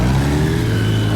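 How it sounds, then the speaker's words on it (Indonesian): Motorcycles ridden by masked riders roll into an airport, heard as a loud, steady mid-pitched engine drone that holds throughout a brief moment. "sekelompok pengendara motor bertopeng memasuki bandara"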